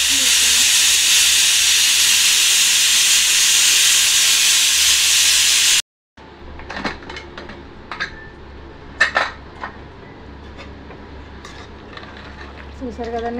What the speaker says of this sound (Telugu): విజిల్లు అయితే 3 విజిల్లు వచ్చే వరకు ఉంచుకోవాలండి.